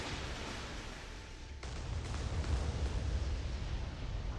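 Missiles striking targets in a video game, a dull rumbling barrage of blasts that swells and keeps booming as a continuous low roar, with no speech over it.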